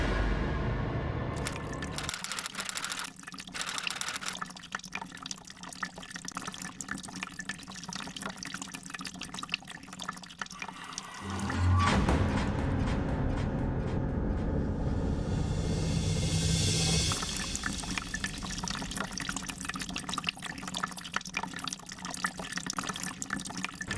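Water runs and pours steadily from a tap into a sink, a continuous splashing flow that swells louder partway through and then settles, with no talking.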